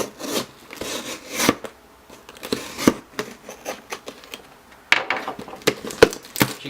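A cardboard shipping box made from a large toy store carton is cut open, with close scraping and tearing rasps coming in irregular bursts and sharp snaps separated by brief pauses.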